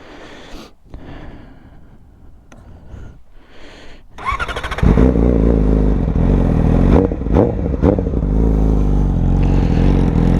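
Motorcycle engine hot-started after a ride: a few quiet clicks and handling sounds, a brief cranking burst, then the engine catches and settles into a loud, steady idle with a couple of small revs.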